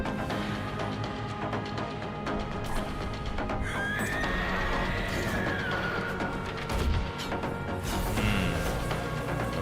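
A horse neighs midway through a busy video game trailer soundtrack, a rising and falling whinny heard over dense music and effects, with a second, fainter call later.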